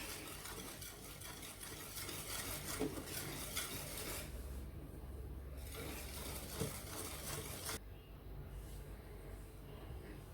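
Banana drops batter being stirred in a bowl, a steady close scraping and swishing with faint clinks of utensil against the bowl, continuing without pause and no voices.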